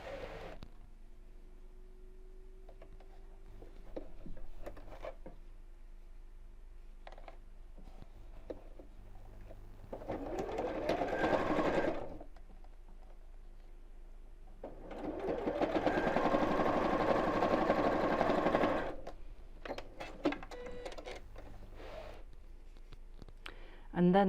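Sewing machine stitching along a folded short length of binding for oven gloves, running in two sustained bursts around ten and fifteen seconds apart, with quieter handling clicks between them.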